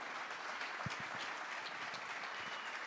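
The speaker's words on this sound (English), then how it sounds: "You can applaud for that." Audience applause at a Notre Dame club gala in Chicago, a steady wash of clapping held at an even level through the whole stretch with a few closer claps standing out.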